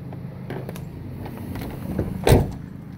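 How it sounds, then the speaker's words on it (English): The door of a 1992 Chevrolet Camaro Z28 25th Anniversary Heritage Edition shuts with a single solid, close thud near the end, after faint handling noises. "The doors close really nice."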